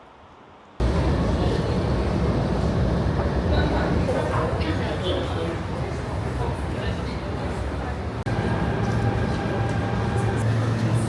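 Loud, steady rumble and roar of a subway train in a Shanghai station, with a brief pause midway, filling the whole clip without talk.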